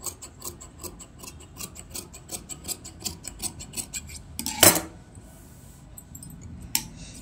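Scissors cut cloth sleeve pieces for a blouse hand, crisp snips repeating in a steady rhythm, close and clear, then a pause with a sharp louder snap and one final click, no talk.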